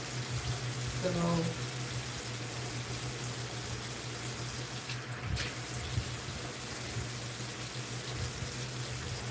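A bathroom tap runs steadily with a constant loud hiss of flowing water, while a person speaks briefly near the start.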